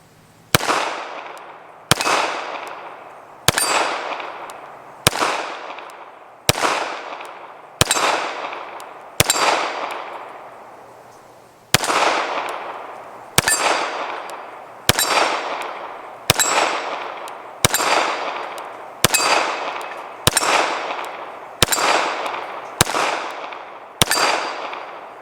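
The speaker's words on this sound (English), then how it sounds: "Our Scoops TV gong that's up there on the shepherd's hook." A metal gong hung on a shepherd's hook rings out from a long string of about eighteen sharp struck hits, each clang decaying before the next, with a brief pause near the middle; no talking.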